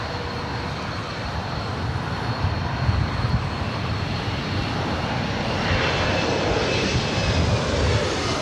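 A jet airliner's engines roar at LAX airport in a loud, sustained broadband rumble with a faint steady whine, building slightly toward the end as the aircraft passes close by.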